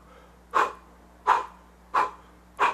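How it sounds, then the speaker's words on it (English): Four forceful exhaled breaths blown out in an even rhythm, close and distinct, separated by short quiet pauses. "as if you're blowing out 5 candles"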